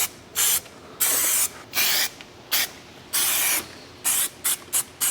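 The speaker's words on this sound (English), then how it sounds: "Going to put on a coat of SEM, self-etching primer." SEM 1K self-etching primer sprayed onto a mini truck body in a run of about nine short aerosol bursts, each a loud, close hiss separated by brief gaps.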